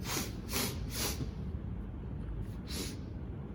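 A voice imitates Papa Bear sniffing his porridge bowl in a Goldilocks storytime reading: three quick noisy inhalations, a pause, then two more short sniffs, close and breathy.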